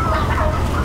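A turkey clucks and grumbles close by while being caught on a farm, a dense, steady throaty vocalizing throughout.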